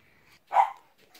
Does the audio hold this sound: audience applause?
no